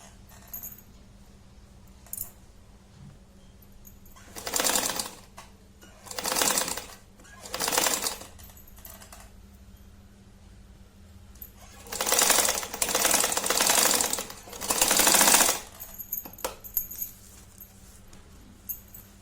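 Sewing machine stitching straps onto a small fabric coin pouch, running in short bursts of a few seconds each with quiet pauses between, close and fairly loud.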